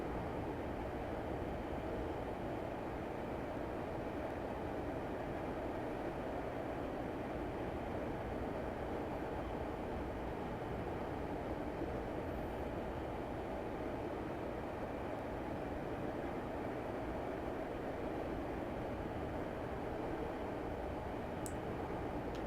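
A Class 142 diesel railbus in a train simulator game runs over the rough Heysham branch line, giving a steady, even rumble and hiss that carries on throughout with no talk.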